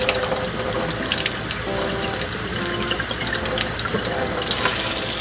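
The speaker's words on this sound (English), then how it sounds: "I'm just going to keep putting water in here and on here until I feel the holster start to get soft." Water runs from a tap onto a vegetable-tanned leather holster as it is soaked for wet forming, a steady, close splashing stream that flows continuously without pause and with no talking.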